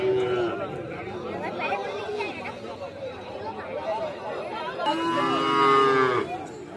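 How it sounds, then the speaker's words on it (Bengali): Cattle moo at the Dakshin Barasat Gorehat cow market, a couple of drawn-out lowing calls rising above a steady hubbub of crowd chatter and nearby voices. "তো এখানে 3 পিস ব্রাউন কালার হালকা পাতলা গাভী আছে, আমি দেখাই আপনাদের।"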